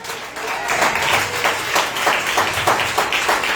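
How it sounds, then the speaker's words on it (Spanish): A church congregation applauding, dense rhythmic clapping from many people filling the room, loud and steady throughout with little talk. "¿Pueden dar un aplauso al Señor?"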